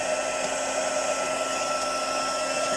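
A heat tool blowing on ink-smooshed paper for a craft background makes a steady, loud, continuous whirring hum with a high airy whine, close and unbroken, with no voice over it.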